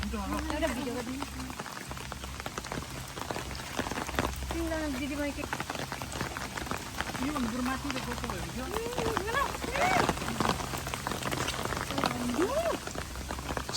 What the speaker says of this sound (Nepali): कस्तो पानी परेको यार